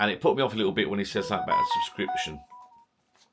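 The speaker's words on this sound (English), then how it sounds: "Excuse the phone again." A phone rings with a steady electronic tone beneath someone talking, the ringing fading out just after the speech stops.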